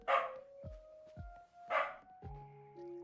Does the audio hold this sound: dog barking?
yes